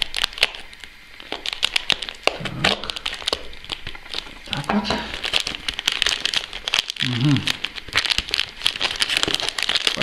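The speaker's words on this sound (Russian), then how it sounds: "Пакет оказался такой двойной. Довольно-таки жесткий. Открываем безбожно." A stiff double-layer plastic parcel bag is torn and ripped open by hand, with sustained crinkling and sharp crackling close by, while a man murmurs a few short words.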